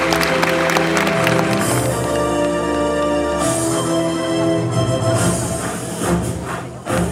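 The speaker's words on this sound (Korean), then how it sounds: "여러분 손 들고 박수!" Outdoor audience applause at a janggu drumming performance during a cherry blossom singing contest on a plaza by Yulhacheon stream, steady clapping mixed with loud amplified music throughout.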